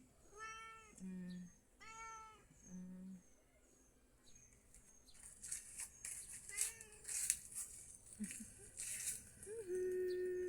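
A cat meows twice in quick succession, close and clear. Quieter chirping and rustling follow outdoors in a nature area.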